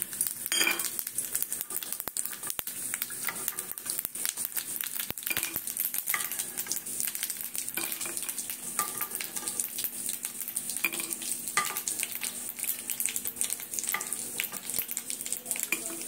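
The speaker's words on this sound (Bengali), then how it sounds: "এইবারে জিরে আর 5 ফোড়ন দিয়ে দিচ্ছি" Cumin and panch phoron sizzle in hot oil in a pan while a vegetable dish of cauliflower is cooked, giving a steady, bright crackling fry throughout, with occasional clinks and scrapes of a spatula stirring against the pan.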